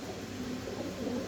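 Fancy pigeons coo faintly nearby, a soft low murmuring hum held steady for the brief moment with no talk.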